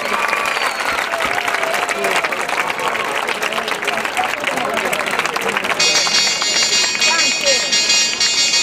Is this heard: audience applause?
yes